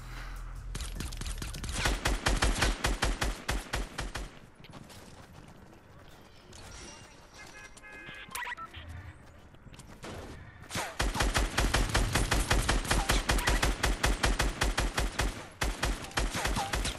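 Rapid automatic gunfire in Fortnite, loud dense bursts of shots that stop for several seconds and then resume just as hard, with faint game sounds in the gap.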